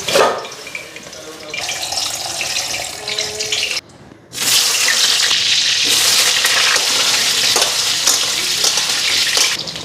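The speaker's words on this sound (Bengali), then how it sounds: "ধীরে চিকেনটা ধুয়ে নিলাম" Chicken being washed under a running kitchen tap, a steady broad rush of water splashing into a sink that stops briefly and then resumes louder, with faint handling noises and no talk.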